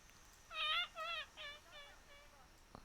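A cartoonish bird cry from the hand-drawn hide-and-seek game Hidden Folks, on a beach island level: a clear run of five descending, squawking calls that start loud and fade, with no talk.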